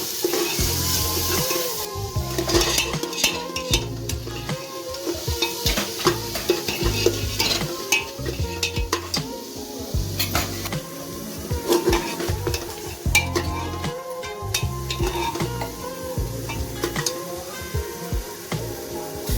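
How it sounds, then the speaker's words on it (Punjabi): Onions with garlic and ginger stirred and roasted in a pan for Punjabi aloo matar, a constant frying sizzle cut by repeated scraping strokes of a spoon against the pan in an uneven rhythm, with music playing underneath. "ਪਿਆਜ਼ ਮਿਕਸ ਕਰਦੇ ਆ ਜੀ ਇਹਨੂੰ ਵੀ ਮਿਕਸ ਚੰਗੀ ਤਰ੍ਹਾਂ ਭੁੰਨਾਂਗੇ ਜੀ"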